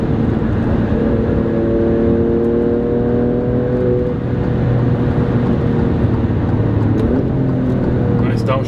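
Alfa Romeo Stelvio Quadrifoglio SUV engine droning loud from inside the cabin, pitch climbing under acceleration and then dropping through a downshift near the end, with someone talking over it.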